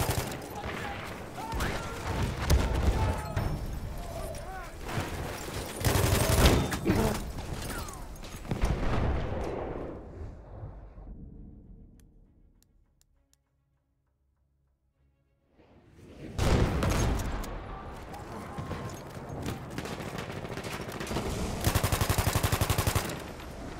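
MG14/17 machine gun fire in Battlefield 1 on the Amiens map: loud sustained bursts of rapid shots, a quiet lull in the middle, then more heavy firing with battle noise.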